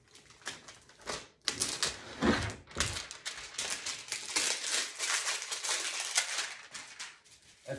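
Plastic wrapping is pulled and crinkled off a small docking plate for an iHome Luna Pro robot vacuum's self-empty base, a close, busy run of rustling and crackling bursts with a brief pause near the start.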